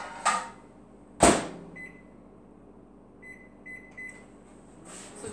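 A microwave oven heating taco mix gives a couple of sharp clunks from the door or handling, then a short run of electronic beeps from its control panel, fairly close in a quiet kitchen.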